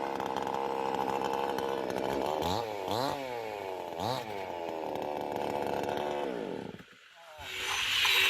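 A chainsaw fitted with a loose new half-chisel chain cuts a walnut tree, running steadily and loud up close, with rising and falling revs before it briefly drops near the end and then picks up again.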